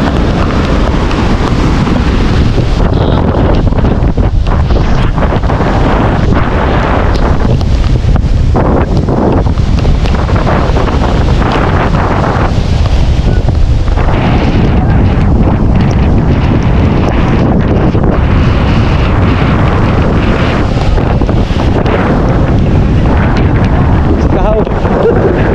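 Strong gusts of Typhoon Carina roar and buffet the microphone for a long stretch, loud and continuous with surging rises and falls.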